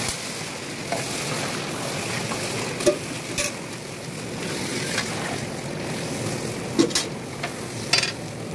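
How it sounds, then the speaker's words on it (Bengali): Water in a cooking pot with fried dal comes to a boil for a Loknath bhog khichuri, giving a steady close hiss of bubbling with occasional small pops and no talk. "দেখো এই জলটা প্রায় ফোটা ফোটা হয়ে গেছে"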